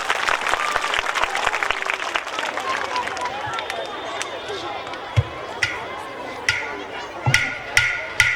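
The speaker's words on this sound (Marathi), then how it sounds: "त्याच्यासाठी एकदा जोरदार टाळ्या होऊन जाऊ द्या." A school audience at a pre-primary performance claps loudly, a dense burst of applause that gradually thins into scattered claps and a few sharp knocks, with voices murmuring underneath.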